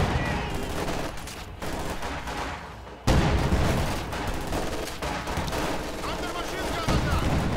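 Battlefield gunfire in the WWII strategy game Company of Heroes 2, with dense overlapping shots and bursts running continuously at a steady loud level, swelling sharply about three seconds in and staying busy to the end.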